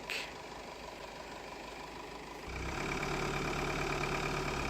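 A car engine idles steadily at a campsite beside a Vango Airaway Galli III tent, then the engine note thickens and rises slightly as the car starts to drive away.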